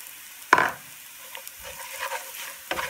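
Crushed chillies fry in a pan for a green tomato thoran, a soft background sizzle with a sharp stirring scrape at the start, lighter scrapes in the middle, and another stir near the end.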